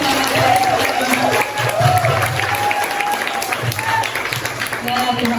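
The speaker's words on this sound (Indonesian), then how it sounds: "tepuk tangan dulu buat beliau" Applause at a labour law seminar on wage regulation, a steady, fairly loud wash of clapping from the audience with voices speaking over it throughout.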